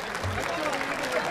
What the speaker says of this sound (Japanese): 観衆の皆さん、もう一度盛大な拍手をお願いします。